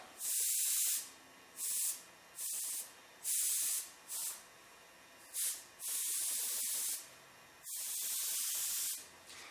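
Airbrush spraying opaque black paint while dusting in a diamond plate design, heard as a series of short and longer hissing bursts with quiet pauses between them, close and fairly loud with no talking.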